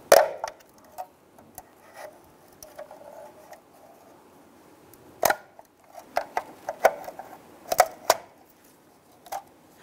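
Plastic trim tool and small pry bar working at the center cap of a 1994-2004 Ford Mustang wheel, producing sparse, sharp clicks and taps that cluster into a quick run of snaps near the end.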